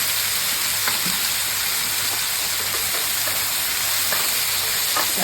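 Canned tomatoes hit a hot Netherton Foundry pan while making shakshuka, giving a steady, loud, broadband sizzle and hiss that runs unbroken through the whole moment.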